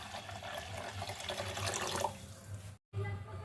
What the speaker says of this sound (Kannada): ಈಗ ಇದಕ್ಕೇನದ ನೀರು ಹಾಕೋಣ